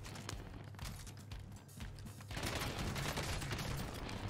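Gunfire from the Call of Duty Warzone video game: dense, continuous rapid shots and bursts fill the whole stretch and grow louder and more intense partway through, with no speech over them.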